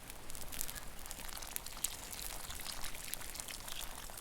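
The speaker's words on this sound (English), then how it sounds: "Might top it up with a little bit of water actually." Water is poured into a pot cooking over an outdoor fire, a soft steady pour with faint splashes, quiet and without talk.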